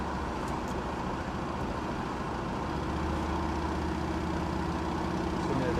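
A Plymouth Sport Fury GT engine runs at a steady idle, its carburetor showing a slight flat spot on transition, with a constant low rumble filling the whole stretch, close and fairly loud.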